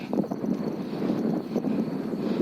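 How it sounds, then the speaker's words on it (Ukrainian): Low, breathy wind rushes past outdoors at a goat pasture, a continuous rumbling gust without any voices. "Такий вітер дує."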